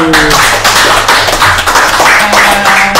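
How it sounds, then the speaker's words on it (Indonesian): Crowd clapping in steady rhythm at a formal military gathering, close and loud, with a low musical tone sounding underneath. "Tepuk tangan semua dulu."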